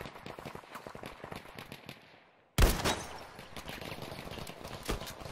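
Gunfire from the Battlefield V Firestorm battle royale: a steady patter of shots and background battle noise, then a loud, close burst of rapid gunfire that continues as dense crackling reports.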